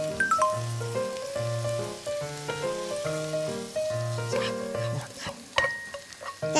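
Food stir-fries in a pan over high heat, a steady crackling sizzle with scraping stirs running continuously under background music, close and moderately loud.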